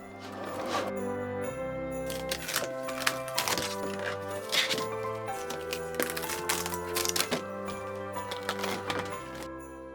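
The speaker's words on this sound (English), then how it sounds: "We're using the fine point blade to cut out the trees." A cutting machine fitted with a fine point blade cuts tree shapes from two 12x12 cardstock sheets stuck to a single mat, giving a steady run of close, busy clicking and whirring carriage movements that continue throughout with no talk.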